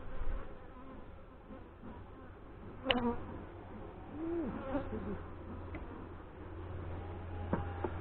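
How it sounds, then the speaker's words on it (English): Honey bees buzz around an open hive during an inspection, a faint, continuous drone with individual bees swelling briefly as they pass near, plus occasional light clicks and taps. "there are bees right out to the edge"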